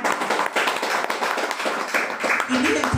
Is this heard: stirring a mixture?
no